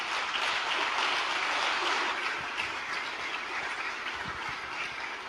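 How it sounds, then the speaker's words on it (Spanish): A church congregation applauds loudly, a dense sustained wash of clapping with no voices over it that slowly eases toward the end. "De gracias a Dios con un fuerte aplauso."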